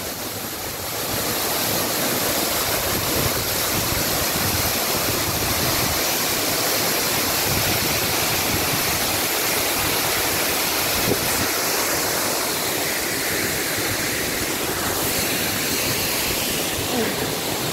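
A two-tier forest waterfall near Padang roars in a loud, continuous broadband rush of falling water, steady throughout with no clear speech over it.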